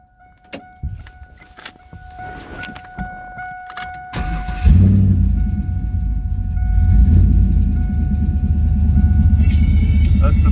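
A few clicks and a whirring chime, then the V8 engine of a 1999 Camaro SS cranks and roars to life, settling into a deep, loud, steady rumbling idle.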